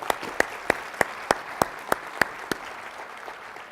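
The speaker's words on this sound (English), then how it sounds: "So I'd like to give yourselves and those model schools another round of applause." A conference audience, gathered for a school event, claps in an even round, with sharp rhythmic hand claps standing out near the front before the applause tapers off.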